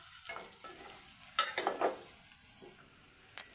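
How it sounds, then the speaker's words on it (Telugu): Eggs frying with onions and turmeric in oil for an egg curry, a short burst of sizzling with a few stirring scrapes, fading before a final clink. "గుడ్లు వేస్తున్నా"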